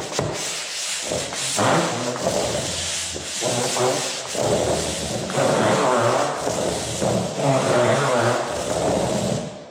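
A telescopic sanding block rubs across a wall in long, repeated scraping strokes, each one a rising and falling gritty swish, close and fairly loud, with no talk.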